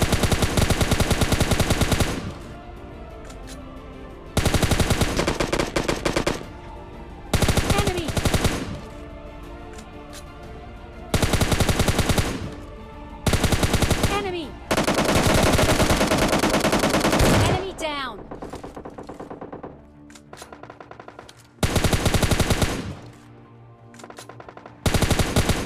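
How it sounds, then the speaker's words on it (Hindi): Bursts of automatic gunfire from a PUBG Lite squad firefight, loud rapid volleys repeating in long strings separated by brief pauses, with a few scattered single shots. "तभी सामने से अब फायरिंग आ रही थी काफ़ी"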